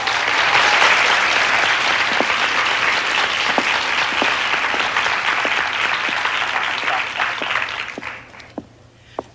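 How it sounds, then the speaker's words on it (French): A studio audience at a contest show applauds a contestant with loud, dense, continuous clapping that holds steady, then thins out and fades to a few last scattered claps at the end. "Je vous demanderai de l'encourager chaudement par vos applaudissements."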